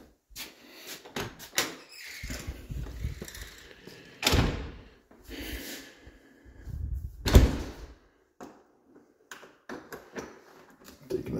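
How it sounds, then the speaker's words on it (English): House doors close and lock in a string of separate clicks, thuds and latch sounds, some sharp and loud, with quiet gaps between them in an indoor porch. "Taking a second to lock the doors."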